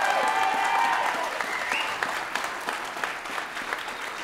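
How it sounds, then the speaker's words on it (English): Crowd applause at a state senate swearing-in ceremony, sustained clapping from many hands that starts loud and eases slightly while continuing throughout. "Let's give a big, big round of applause to Pete Harckham"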